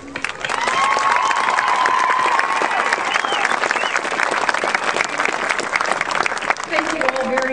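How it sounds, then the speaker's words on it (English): A large crowd at a troop deployment ceremony in Alaska applauds steadily, a broad wash of clapping held for several seconds with scattered cheers and shouts rising through it. "And we do applaud our mighty warriors."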